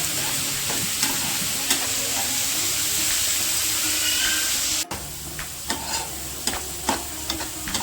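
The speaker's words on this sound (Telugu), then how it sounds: "ఉల్లిపాయ గోల్డ్ కలర్ వచ్చేసింది కదండి." Onion frying until golden brown in a dish with prawns and spinach: a loud, dense, close sizzle and hiss with regular scraping stirs, and a short break partway through.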